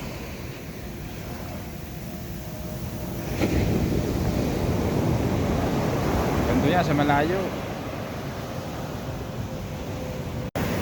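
Sea waves roll onto a beach during typhoon weather, blended with heavy wind buffeting the microphone. A surge builds in the middle and then fades. A person talks briefly over the roar.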